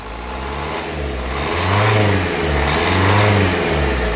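A 2014 Nissan Terrano XV engine idles steadily, then revs twice in smooth swells on the accelerator, heard up close with no talking.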